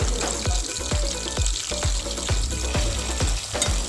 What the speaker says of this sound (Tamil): நல்லா 2 சைடும் ஸ்லோ ஃப்ளேமில் ஃப்ரை ஆகி வரட்டும்.